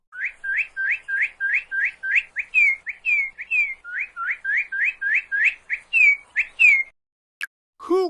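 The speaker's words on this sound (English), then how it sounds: "cardinal," A cardinal sings a long run of clear, rising slurred whistles, about twenty near-identical notes in a steady rhythm, close and loud, before a brief different call ends it.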